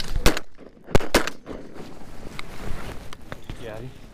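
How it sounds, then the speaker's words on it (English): Shotgun blasts ring out while duck hunting outdoors, two sharp loud reports close together near the start among wind noise, with voices talking through the rest. "I missed my first shot."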